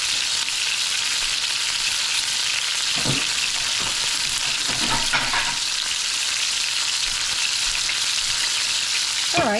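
Chicken pieces sear in a hot pan with a steady, loud sizzle and crackle, and a few brief scraping stirs break through the spatter. No voices are heard.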